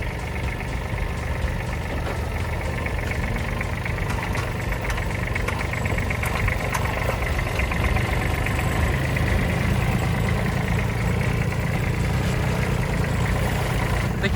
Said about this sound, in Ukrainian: Зараз нам наші хлопці допоможуть трактори завести